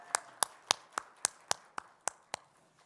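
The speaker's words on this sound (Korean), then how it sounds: "우리 더 힘차게 하나님께 영광의 박수 올려드릴까요?" Slow, evenly spaced claps ring out in a church service, about nine crisp single hits in a steady rhythm with quiet room sound between them.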